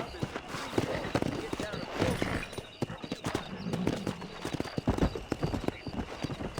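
Horse in the Red Dead Redemption video game, rapid hoofbeats clopping in an uneven galloping rhythm, close and loud, with short breaths and snorts mixed in and voices speaking over parts of it.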